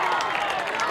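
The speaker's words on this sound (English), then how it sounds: "Panthers sidelines and crowd fired up" A football crowd on the Panthers sideline cheers steadily through a Friday night high school game between Greenville and Pana, a dense broad roar with scattered claps and no clear break.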